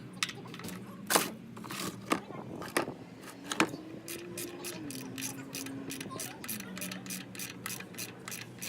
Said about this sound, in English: you're gonna want to take out this drain plug first. You're gonna hit it with a 17 millimeter.